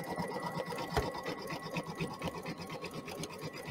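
An embroidery machine stitching a spring floral design, its needle pounding in a fast, even mechanical rhythm with a steady motor hum close by.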